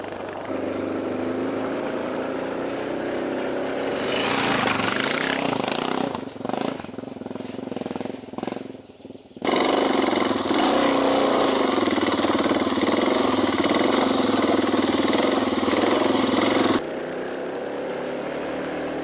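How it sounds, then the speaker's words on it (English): Motorcycle engine on an adventure trail ride in Croatia, started in second gear and running, a loud close rumbling drone that dips and sputters midway, then surges back strong and steady before easing slightly. "I managed to start the engine in 2nd gear."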